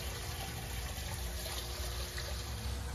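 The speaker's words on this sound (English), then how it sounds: "that there is the aerator that I'm using" An aquarium aerator bubbles water in a tank holding creek chubs, producing a steady, dense burbling wash that stays at an even level with no pauses or voices.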